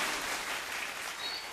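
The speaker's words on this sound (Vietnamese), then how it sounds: "hãy dành tràng pháo tay thay cho tràng pháo cưới chúc mừng hôm nay" Wedding guests applaud at a Vietnamese bride's send-off ceremony, a brief burst of moderately loud clapping that holds steady and fades slightly at the end.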